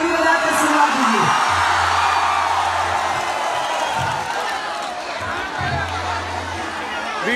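At a live Bhojpuri stage show in Kolkata, a large audience cheers and whoops in a dense, continuous roar, with amplified talk over the top.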